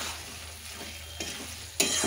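Marinated chicken with yogurt and tomato drops into hot oil in a home kitchen and is stirred, giving a steady close sizzle with soft scraping strokes and a sharp burst of frying near the end.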